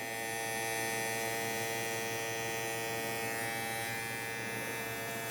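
A brand-new BabylissPRO FXOne hair clipper runs alone with a steady, close electric hum and buzz that holds evenly throughout.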